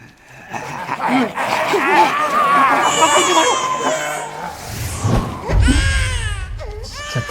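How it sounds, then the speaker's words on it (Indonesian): A newborn baby wails from a storeroom in a zombie drama, with loud, wavering cries that rise and fall across the scene, mixed with barking-like noises and dull thumps. "terdengar suara tangisan bayi dari arah gudang"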